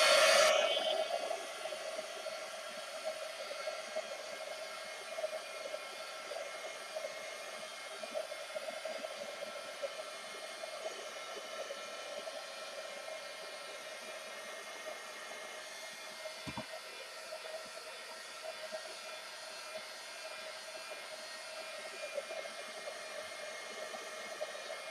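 A hair dryer blows to dry paint on a whimsical journal page, a steady close whoosh that starts with a brief louder burst and then holds evenly for the whole stretch with no talking.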